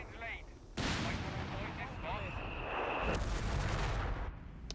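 Gunfire and heavy artillery blasts in the Company of Heroes 3 strategy game, a sudden loud burst followed by sustained rumbling battle noise and scattered shots, with a faint voice talking early on.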